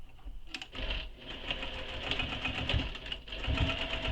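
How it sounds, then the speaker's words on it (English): A sewing machine stitches the side edges of a shoulder bag pocket, giving a close, steady rattling run of rapid needle beats over a low motor hum, with a few clicks near the start. "Now we need to stitch the side edges of the pocket on both sides using the seam allowance given in the pattern"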